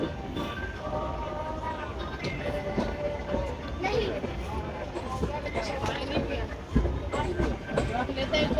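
A train pulls into Mokama station in India, with a continuous rolling rumble and intermittent rail clatter carrying on throughout, while voices talk quietly nearby.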